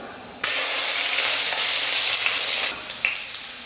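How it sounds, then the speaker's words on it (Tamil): Garlic cloves frying in hot oil for a Tamil mango and brinjal kara kuzhambu, a loud steady sizzle that bursts in suddenly, holds for about two seconds, then drops to a quieter hiss. "பூண்டு நல்லா வதங்கிடுச்சு."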